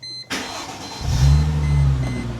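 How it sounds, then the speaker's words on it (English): A Chrysler Crossfire engine cranks briefly after a starter click, then catches and settles into a loud, steady, throaty idle heard up close, with no voices. "Okay, crank our engine now."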